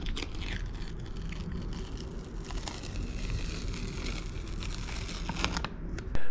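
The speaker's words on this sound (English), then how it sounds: "This sticker's gotta go." Sticker being peeled off a Bixpy J-2 kayak motor during installation on an Old Town Sportsman PDL 120: a continuous close crinkling, tearing sound running steadily throughout, with no talk.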